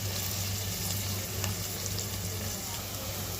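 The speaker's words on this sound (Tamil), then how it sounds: "இதை அப்படியே நல்லா கிண்டி விடுங்க கொஞ்சம் நேரத்துக்கு வெங்காயம் வந்து நல்லா பொன்னிறமாக வதங்கி வரட்டும்" Onions frying and stirred in a pan as they turn golden for a Tamil mutton curry, a steady close sizzle with soft scraping and a low hum underneath, no voices.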